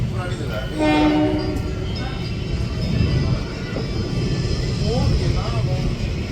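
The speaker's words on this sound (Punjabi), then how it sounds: "ਬਰਨਾਲਾ ਰੇਲਵੇ ਸਟੇਸ਼ਨ ਪਹੁੰਚ ਗਏ ਹਾਂ" A train rumbles steadily close by as it pulls into Barnala railway station, with people talking over the clatter of the carriages.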